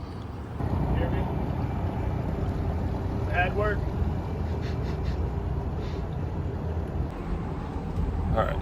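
A 39-foot Nor-tech powerboat with quad 450 outboards runs as a steady engine drone mixed with wind buffeting, while people talk briefly over it.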